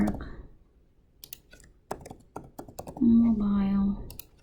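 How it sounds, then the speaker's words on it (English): Scattered keystrokes on a computer keyboard, a few irregular taps and clicks close by, with a brief low hum-like tone partway through, as values are entered into a form. "I will type in the values"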